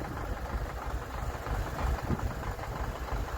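A tractor runs while cultivating a field, heard as a steady, rough, broadband engine rumble with low thumping, moderately close, with no speech.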